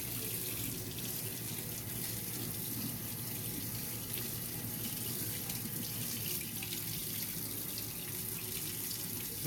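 A tap runs steadily as hair is rinsed under it, a constant soft hiss and splash of flowing water, faint and unbroken throughout.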